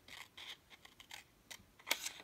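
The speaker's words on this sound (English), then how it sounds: "the best way to do that is to just go snip" Scissors snip paper close up while cutting shapes for a Christmas wreath, several quick crisp cuts in an uneven rhythm, the last one sharpest.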